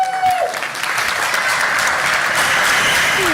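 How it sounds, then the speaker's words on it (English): A school board meeting audience gives the Valleydale team a round of applause, a full, continuous wash of clapping that holds loud and even throughout. "A round of applause for our Valleydale team."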